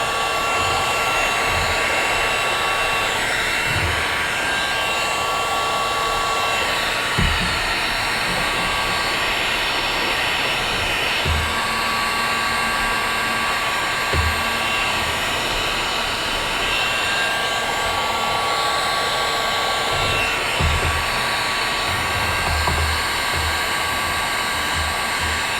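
A heat gun blowing on a metal downspout in a garden project, a loud constant high-pitched whooshing roar that runs unbroken, with occasional faint knocks and handling sounds beneath.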